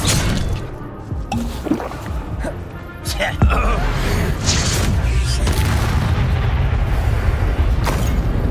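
Fire spells burst with whooshing booms amid combat in the Hogwarts Legacy video game. A character shouts spell names over the repeated blasts and the game's ambient noise.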